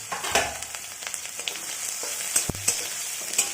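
Chopped garlic and ginger frying on a high flame for paneer matar chilli, a steady loud sizzle with sharp crackles and occasional clinks of a spatula against the pan throughout.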